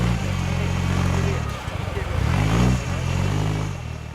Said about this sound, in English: Revving as hard as he can, he pops the clutch and away he goes.